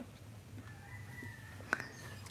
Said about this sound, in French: Et le coq continue comme tous les samedis.